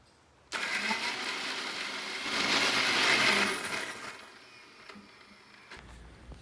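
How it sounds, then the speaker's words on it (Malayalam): A mixer grinder crushing onion for crab masala, a steady motor whir that swells and grinds harder midway, then winds down and cuts off near the end. "എന്നിട്ട് നമ്മൾ മിക്സിയിലിട്ട് അടിച്ചിട്ടെടുക്കും"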